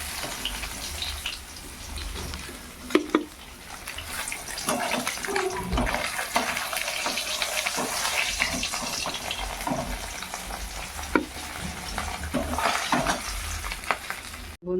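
Fish pieces fry in a pan with a continuous close sizzle and bubbling, broken by occasional scrapes and knocks as they are turned, with no voices.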